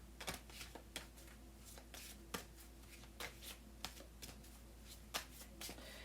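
A deck of oracle cards being shuffled by hand, a soft papery riffle with repeated crisp flicks and taps in an irregular rhythm, close and quiet.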